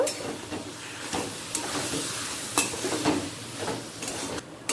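Taro greens cooking with a hilsa fish head and mustard oil in a pan, stirred with scraping, clattering spoon strokes over a continuous close sizzle and hiss.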